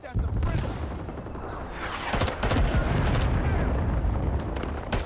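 Rifle fire from a 20-round magazine in Rising Storm 2 Vietnam, with rapid bursts of sharp shots over constant low battle rumble and distant explosions, loud and close, with someone talking in between.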